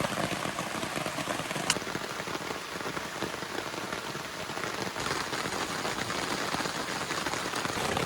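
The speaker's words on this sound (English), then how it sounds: "It's raining quite hard." Heavy rain pours steadily onto a campsite shelter in the Kawartha Highlands during summer, a dense, close hiss of drops drumming on the surface with no voices.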